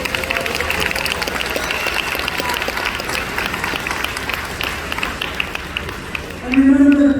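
Audience applause rings through a hall at a high school achievement awards ceremony, steady sustained clapping from a large crowd, with a voice rising over it near the end.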